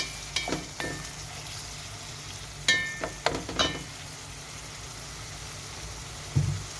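Tomatoes tipped into a hot frying pan with an eggplant dish, a soft steady sizzle under a few sharp clicks and scrapes of utensils, with a faint bump near the end.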